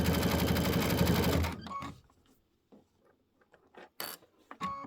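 A sewing machine runs a single-triple quilting stitch in a fast, steady mechanical chatter for about a second and a half, then stops, leaving scattered small clicks and handling noises.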